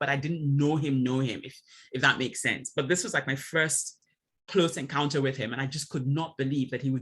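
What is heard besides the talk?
None of the usual background noises is heard.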